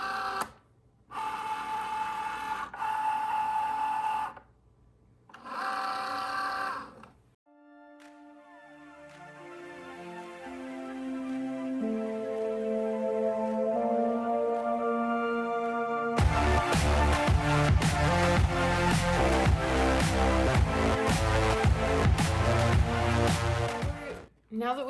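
A Cricut Joy cutting machine works through a card with its standard blade, giving a stepping, whirring motor hum that shifts pitch in steps, followed by louder, busier mechanical rattling.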